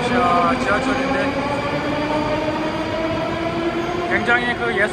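A metro train rumbles steadily through a Moscow metro station with a continuous low roar and faint high squeals, while people talk in the background.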